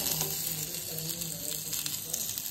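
Chopped onion and wet masala of ginger, green chilli, garlic and curry leaves roast in a pan with a steady, close, hissing sizzle that holds at an even level throughout the short stretch.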